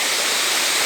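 Steady rushing water pours over a village dam, a dense, unbroken roar filling the short stretch with no voices.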